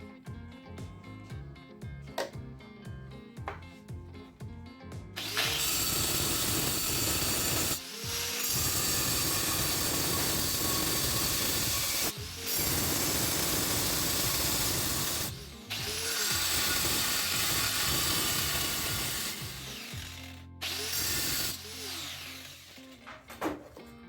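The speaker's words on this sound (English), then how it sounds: "So I'm using a diamond cutoff wheel." A diamond cutoff wheel on a power tool cutting metal for a bevel jig, a loud sustained whining grind in several long bursts separated by short pauses, with quieter handling noise at the start.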